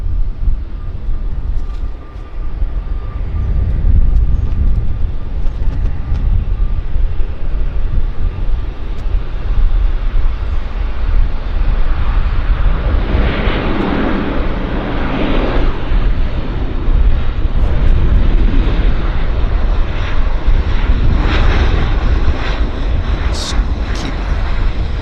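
An aircraft arriving from Smithers makes its approach at Vancouver airport, a loud, sustained low engine roar swelling and lingering over a busy airfield backdrop, with people talking at times.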